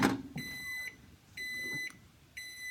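A microwave oven beeps three times when done, each tone sustained and evenly spaced, faint against quiet kitchen background noise.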